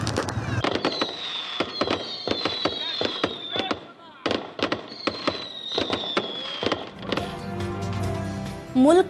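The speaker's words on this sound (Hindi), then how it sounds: "शानदार आतिशबाजी का मुजाहिरा" New Year fireworks over Times Square in New York: rapid loud bangs and crackling bursts, some with whistling rising streaks, continue throughout with crowd noise underneath and a brief lull midway.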